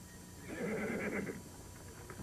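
A horse gives one drawn-out whinny that rises and wavers for about a second, moderately close and clear, with no talking over it.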